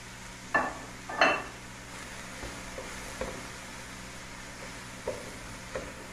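Carrot added to a pan of cabbage for a simple stir-fry: a few sharp clinks and scrapes of a utensil against the pan over a faint, quiet sizzle, fairly close.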